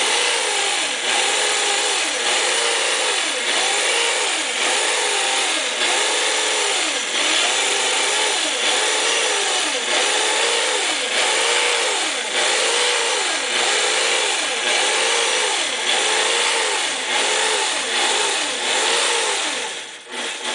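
A sewing machine running while quilting feathers makes a loud, continuous motor whir with a fast, regular cyclic pulsing of the needle mechanism, sustained and even throughout before tailing off at the very end.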